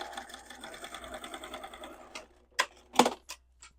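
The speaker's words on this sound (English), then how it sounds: "I'll just sew that at 1/8 of an inch seam allowance just along that edge" A sewing machine stitching a 1/8-inch seam along the edge of a fabric love letter pouch: a rapid, even run of stitching for about two seconds, followed by a few separate clicks and clunks.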